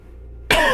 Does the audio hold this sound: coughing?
yes